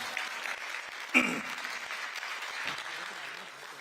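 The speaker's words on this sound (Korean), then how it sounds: "다시 한번 뜨거운 박수 부탁드립니다." An audience at a political party workshop gives a round of applause, a continuous but fairly soft and distant patter of many hands, with one sharper clap standing out early on.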